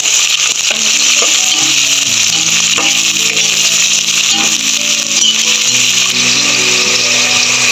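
Green chilies and onion frying in a pan for paneer pulao give a constant bright hiss of sizzling oil, close and loud, running under a tonal background melody throughout with no voices.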